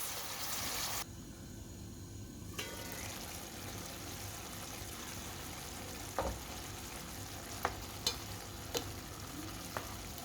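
Onion and beef frying together in a pan, a steady sizzle running throughout with a few faint scrapes of stirring, beginning with a brief burst of louder hiss.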